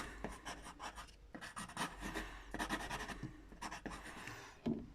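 Pencil sketching anatomy on paper makes soft, quick scratching strokes in short flurries with brief pauses, faint and close.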